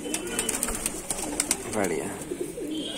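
Racing pigeons coo at a home loft in Moradabad. A soft, low rolling coo rises and falls under a man's speech, with sharp bright clicks and rustles around them.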